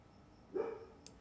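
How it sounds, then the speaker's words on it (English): A single short, faint dog bark at a distance, heard once and alone over a quiet background. "I've got to chase those dogs again"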